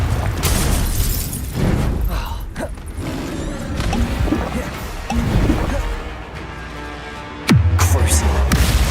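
Blasts and crashes from Confringo fire spells in the Hogwarts Legacy game, with repeated bursts and a sharp loud impact near the end, under spell-casting shouts.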